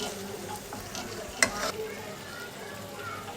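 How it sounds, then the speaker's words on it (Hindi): Masala for stuffed bitter gourd (bharwa karela), with salt, ground chilli and a little water, sizzles steadily in a pan while being stirred, a brief sharper clatter partway through. "और इसको अच्छे से भूनेंगे।"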